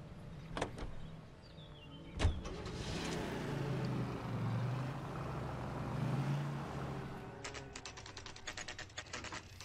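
A car pulls up in the video game L.A. Noire, its engine rumbling close by for several seconds, followed by a run of rapid mechanical clicks and rattles near the end.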